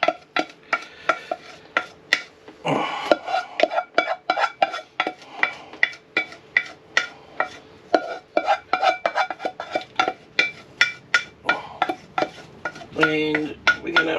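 Desiccated coconut, grated lemon zest, condensed milk and melted butter being stirred together into a crumb, with a steady run of close scraping and tapping strokes from the spoon against the bowl, and no talk.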